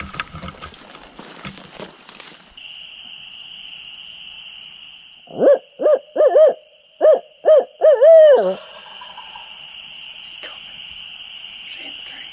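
An owl hoots in the woods of Georgia during a spring turkey hunt, giving a clear rhythmic series of about seven hoots in quick succession over a faint steady background hiss.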